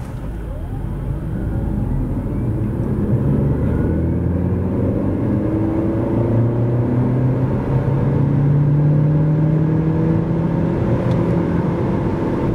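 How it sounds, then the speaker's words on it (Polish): A 2023 Nissan Juke Hybrid with a 1.6 engine accelerating from standstill to 100 km/h, its engine drone rising steadily in pitch through the run, loud and close inside the cabin with no voices. "przyspieszenie od 0 do setki."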